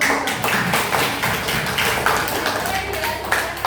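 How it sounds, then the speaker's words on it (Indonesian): Hand clapping during a group health-promotion presentation, a fairly steady patter of claps at close range with some speech-like sound mixed in. "Oke, tepuk tangan dulu"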